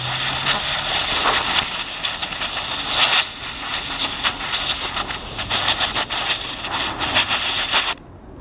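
Compressed air blasting through a lawn mower's paper air filter to clean it, a loud, steady hiss that runs nearly unbroken for several seconds before cutting off abruptly.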